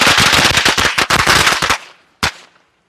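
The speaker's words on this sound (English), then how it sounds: "This is the color firecrackers." Black Cat color firecrackers go off in a fast, loud string of sharp cracks for nearly two seconds. After a short silence, one last bang follows.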